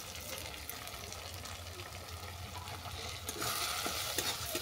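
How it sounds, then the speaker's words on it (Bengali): Spiced tomato masala with chilli and turmeric powder being stirred and fried in a pan for a chicken curry, soft continuous sizzle with scraping spoon strokes, close and moderately quiet. "দিয়ে এটাকে আমি আরও 2 মিনিট কষিয়ে নেব।"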